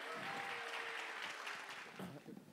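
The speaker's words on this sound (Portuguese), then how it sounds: "Uma salva de palmas para a nossa banda!" Audience at a live hypnosis show clapping for the band, a short burst of mixed applause with sustained musical tones underneath, fading as it thins out.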